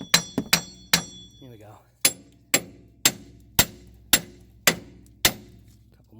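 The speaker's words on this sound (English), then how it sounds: "Give it a couple of taps on this back side." A hammer tapping the rear brake hub of a Mazda 3 to knock it free: about nine sharp, ringing metallic strikes, close and loud, in an uneven then steadier rhythm, with a brief spoken remark near the start.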